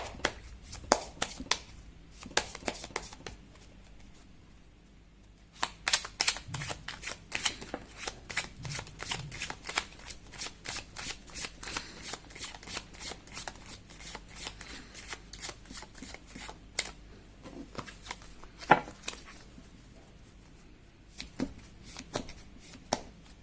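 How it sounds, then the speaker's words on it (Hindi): Tarot cards being shuffled by hand in repeated quick riffling bursts, close and crisp, with brief pauses between rounds and no talking. "कर लेती हूँ कार्ड की शफलिंग।"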